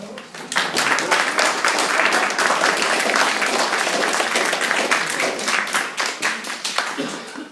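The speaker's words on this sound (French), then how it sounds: "je pense un petit applaudissement pour ce travail" Gallery opening crowd in Paris applauding, a dense patter of many hands clapping steadily for several seconds at close range, tapering slightly toward the end.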